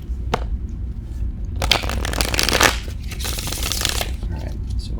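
Tarot cards are shuffled close to the microphone: a brief flick, then a dense riffling burst and a second softer run of shuffling, with no talk.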